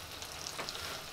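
Scrambled eggs fry in a pan inside a cabin during a winter snowstorm, giving a steady, moderately quiet sizzle and crackle with small pops and no voices.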